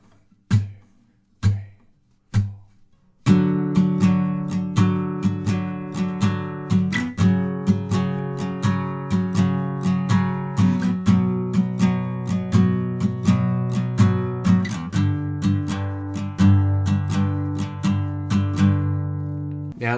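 An acoustic guitar rings out in a few single strums, then a steady, even strumming pattern of chords, bright and close with no voice.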